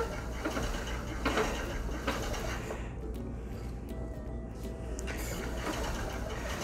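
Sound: bobbin-led spinning wheel turning

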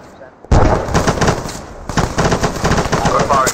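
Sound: gunfire in ArmA 3 video game

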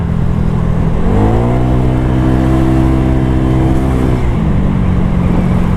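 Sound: Honda Giorno+ 125 scooter accelerating with aftermarket exhaust

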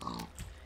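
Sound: pig grunting in video game Minecraft

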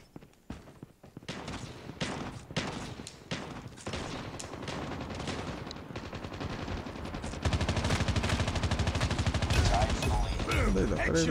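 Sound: gunfire in the video game Call of Duty Mobile

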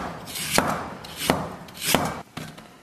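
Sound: knife slicing ginger into thin pieces

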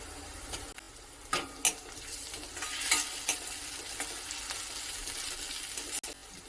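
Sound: onion and curry leaves sautéing in oil

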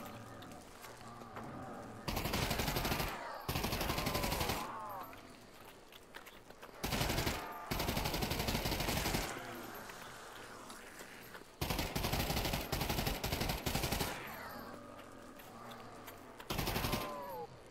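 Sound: gunfire shooting zombies in the video game Der Riese VR

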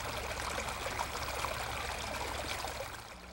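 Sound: creek water flowing at Salt Creek banks

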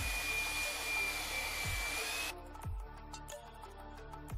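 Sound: machine mixing Galtex XPF textile putty

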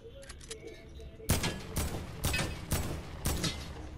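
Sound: gunfire in a video game

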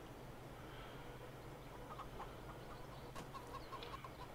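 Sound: chickens clucking in Farming Simulator 22, video game

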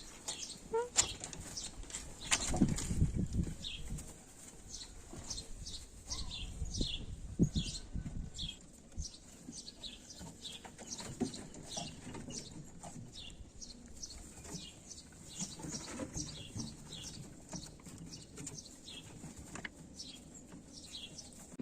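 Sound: starlings chirping

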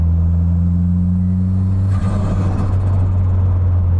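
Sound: sports car engine rumbling

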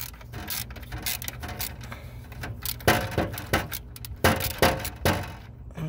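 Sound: socket wrench (14 mm) loosening alternator bolt on Mitsubishi Montero

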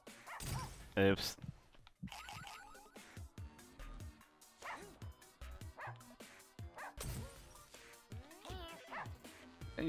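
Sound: dog barking in Russian subway dogs video game

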